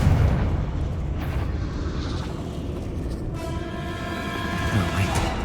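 Confringo spell explosion in the Hogwarts Legacy video game, a heavy rumbling blast that rolls on continuously, loud and near, with a ringing tone rising late.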